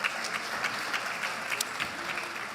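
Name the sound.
audience applause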